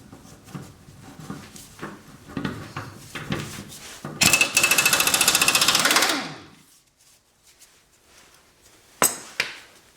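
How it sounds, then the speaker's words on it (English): An angle grinder fitted with a flap wheel sharpens the blades of a Cub Cadet XT2 riding mower: scattered clanks and handling noises lead into about two seconds of loud, steady abrasive grinding that winds down, followed by a few sharp knocks. "I'm going to use my angle grinder with a flap wheel, and then just touch these up a little bit real quick."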